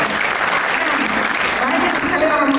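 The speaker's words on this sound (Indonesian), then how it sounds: "Tepuk tangan dulu." A youth seminar audience bursts into sustained applause, many hands clapping in a loud continuous wash, with a voice speaking faintly underneath.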